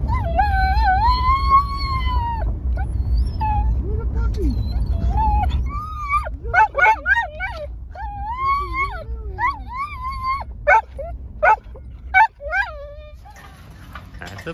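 A husky howls in long, rising and falling wails at a dog park, then gives a series of shorter yips and whimpering howls, close and fairly loud.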